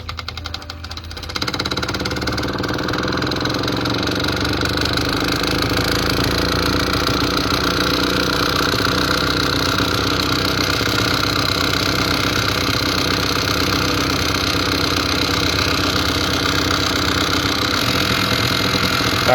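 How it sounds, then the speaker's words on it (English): A DC motor connected to positive and negative leads runs on a power input at 110 volts, a steady loud mechanical hum with rattling that starts after a brief quiet moment and continues evenly throughout. "Now I will show you guys what happens when I hook the positive and negative to the DC motor and we turn on our power input."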